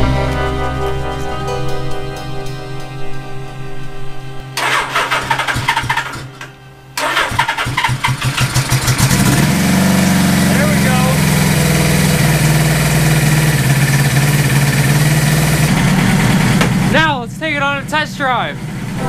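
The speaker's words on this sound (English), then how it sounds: "And now, I should be able to start up the bike." A Suzuki GS850 motorcycle, its carburetors just tuned, cranks a few times with a starter whir, then catches and roars into a loud, steady idle that settles before a final blip, with a voice briefly heard.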